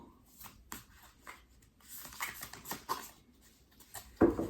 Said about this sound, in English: Okay, that's a good shuffle.